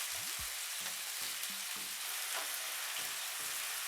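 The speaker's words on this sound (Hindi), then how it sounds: "चिकन का कलर चेंज होने तक इसे अच्छे तरीके से पका लेंगे।" Chicken pieces fry in hot oil in a pan for red sauce pasta, giving a constant, dense sizzle with occasional low humming tones underneath; no talking.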